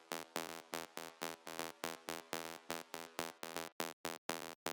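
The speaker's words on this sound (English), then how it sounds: "the acid sequence, which is just a saw wave with a high resonance filter" Raw acid synth sequence from a plain sawtooth wave through a high-resonance filter with no effects: a steady run of bright, buzzy staccato notes, loud and dry, with short gaps between hits and no voices.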